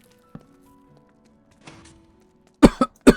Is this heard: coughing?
yes